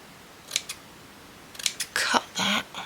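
Scissors snip through craft material during a shabby-chic trash-to-treasure makeover, a few short crisp cuts, the last two longer and louder, close by with no talking.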